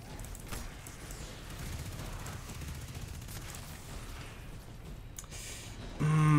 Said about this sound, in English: Of course they can shoot me through the grate, and I can't shoot them back.